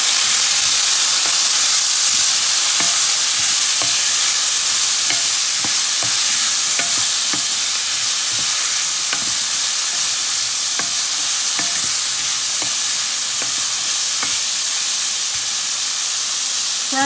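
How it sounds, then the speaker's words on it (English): Steady loud sizzling of green beans frying in a pan, with scattered scraping and clinks from stirring throughout. "The beans are being fried for 10 minutes now."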